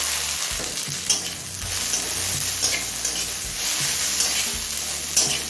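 A medium chopped tomato fries with browned onion in a pan for loti chicken, giving a loud continuous sizzle with a few sharp stirring scrapes.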